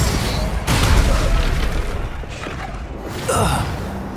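Spells cast during combat in the video game Hogwarts Legacy: a loud, full-bodied magical blast lands early, followed by a sustained rushing roar and a second sharp burst near the end, with faint grunting breaths mixed in.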